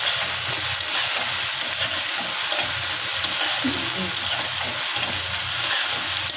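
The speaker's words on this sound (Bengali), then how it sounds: "মশলা কষা হয়ে গেছে, চিংড়ি মাছটাও ভাজা হয়ে গেছে।" Prawns and spice paste sizzle steadily in a pan on the stove, a continuous close frying crackle with faint stirring scrapes.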